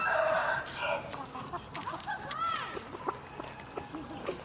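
A rooster of a gamefowl breed crows with a rising, wavering call among bursts of clucking, fairly close, while people talk quietly in the background.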